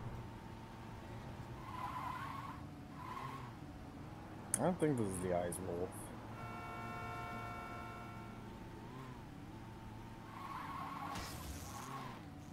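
A car in the Saints Row 2 video game drives with steady engine drone, then gives a sharp, loud tire skid lasting about a second, with people talking over it throughout.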